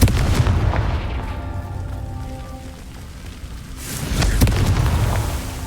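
Blasting-curse explosions from Hogwarts Legacy, a loud booming burst near the start and another around four seconds, set against a steady rain-like rumble of game ambience.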